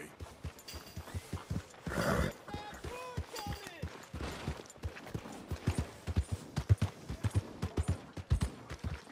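Horse hooves clip-clop at a steady walking rhythm in the video game Red Dead Redemption 2, close and fairly soft, with a voice briefly speaking over the hoofbeats.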